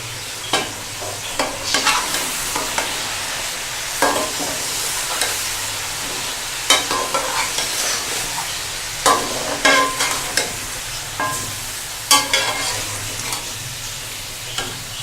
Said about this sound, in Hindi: चिकन डालने के बाद हम इसका फ्लेम दरमियाना कर देंगे ताकि अच्छी तरह इसकी फ्राइंग अंदर तक हो जाए